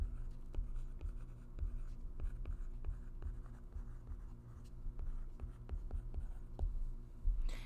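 Pen or marker writing math by hand on paper, a run of quiet scratchy strokes with short taps, close and steady over a low background hum, no talking.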